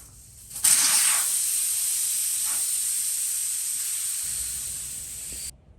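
Air rushes out of a car tire after its valve stem is pulled, a loud, steady, close hiss that starts abruptly, holds for about five seconds, then stops sharply.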